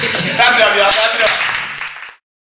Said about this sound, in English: Clap it up, y'all, clap it up.